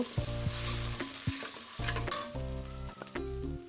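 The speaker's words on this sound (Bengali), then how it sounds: "পেঁয়াজটা একটু লাল করে ভেজে নিয়ে সামান্য পানি দিয়ে দিব" Onion frying in oil in a wok until reddish, for a boal fish curry with potato, a continuous close sizzle with frequent metallic spatula scrapes and clinks as it is stirred.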